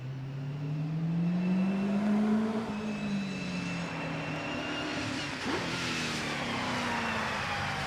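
A Brabham BT13X race car with a 3.5 litre V8 engine at the Prescott hill climb, accelerating hard with a rising, then falling engine note, loud and close before fading slightly, with no talk.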